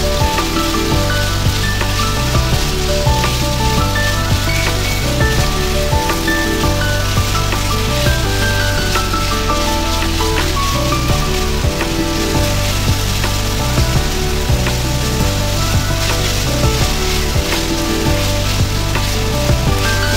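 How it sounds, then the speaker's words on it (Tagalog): Sliced beef frying in a pan gives off a steady, loud sizzle and crackle that holds at an even level from start to finish, with no talking. "saka natin ilagay yung ating sliced beef. So, lutuin lang natin to saglit guys"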